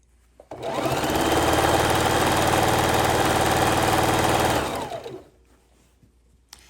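A sewing machine runs steadily for about four seconds while stitching quilt fabric with the seams pressed down, a loud, close, even mechanical hum and rapid needle chatter that starts abruptly and winds down to quiet.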